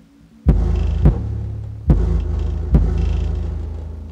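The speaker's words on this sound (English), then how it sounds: "The stuff you hear rattling, that's just, you know, other BS rattling around my room." Deep thumping bass from a DD Audio 512c subwoofer sets loose objects in a room buzzing and rattling, with four heavy low hits each followed by a sustained droning rumble and clattering vibration, close and loud, no talking.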